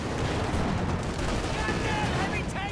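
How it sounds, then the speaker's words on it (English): An M4 Sherman tank fires armour-piercing rounds in the Company of Heroes 2 video game, amid loud, dense battle noise of booming cannon shots and crackling gunfire with no letup. "The Sherman is firing AP."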